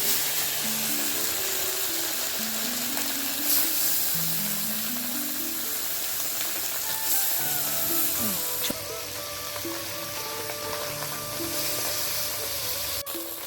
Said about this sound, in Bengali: ছোটো মাছটা ভাজা হয়ে গেছে